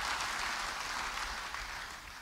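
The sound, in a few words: congregation applause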